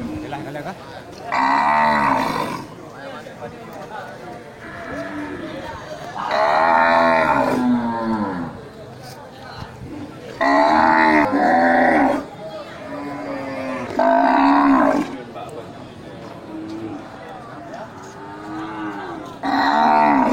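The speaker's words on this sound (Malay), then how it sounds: "ini jadi pusat perhatian untuk sapi indukan besar dengan pedet super ya, dari jenis sapi simental" Large Simmental cows with calves moo at a cattle market, several long, loud bellowing calls spaced every few seconds with quieter gaps between.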